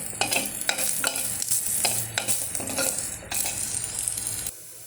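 Loud sizzling in a pan with repeated scraping and stirring strokes of a utensil, then the sizzle drops away at the end; no speech.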